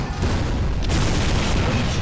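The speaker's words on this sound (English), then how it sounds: "Imagine getting hit by that and just continuously fires down at you. That's a cannon." Cannon fire in the mobile game Fate/Grand Order, a loud, dense, continuous booming barrage that rumbles without a break, heavy in the low end.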